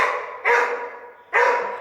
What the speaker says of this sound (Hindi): और यहाँ इंचू भौंक रही है